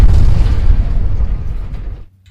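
Explosions go off around a house in a wartime setting during the Iran–Iraq war, one heavy booming blast with a long rumbling low roar that slowly decays and cuts out near the end.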